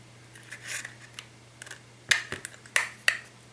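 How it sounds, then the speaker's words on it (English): Hard plastic being cut near a seam with a tool, heard as soft snipping at first and then several sharp, loud snapping cracks, close and without speech. "Now I'm trying to cut as close to that seam line as I can."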